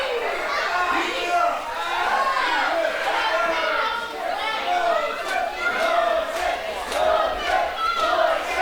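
A wrestling crowd at a World League Wrestling show roars and chants in a sustained, dense wall of voices cheering on a wrestler named Moses, loud and continuous with shouting peaks rising above the din.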